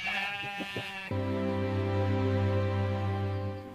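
A sheep bleats close by, first a few short wavering calls, then one long, loud, sustained bleat that holds steady for several seconds.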